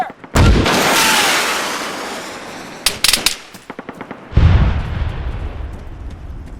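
Heavy gunfire and explosions from a military video game burst close and loud, with a big blast, a rattling string of rapid shots, then another booming impact and rolling rumble.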